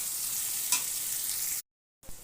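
Chopped onions frying in a pan, a close, steady sizzle with a stir or two, broken by a brief silence, no talking.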